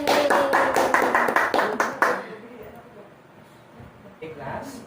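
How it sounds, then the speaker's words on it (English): A class of students in a teaching demonstration claps in a short burst of rhythmic, fairly close applause for about two seconds, then the room goes quiet with a few faint sounds. "So, class, give yourself a round of applause."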